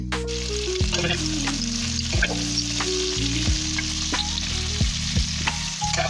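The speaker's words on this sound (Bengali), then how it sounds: "পেঁয়াজ ভাজার জন্য তেল দেওয়া হচ্ছে কড়াইয়ে" Sliced onions frying in oil in a wok for a lunch with echor chingri, a loud continuous sizzle close up, with sliding scrapes as they are stirred.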